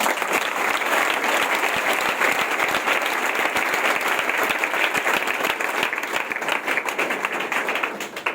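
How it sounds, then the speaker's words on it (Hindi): An audience claps loudly for Hridayanand sir, dense sustained applause filling the whole stretch without letting up. "मैं चाहूंगा उनके लिए जोरदार क्लैपिंग"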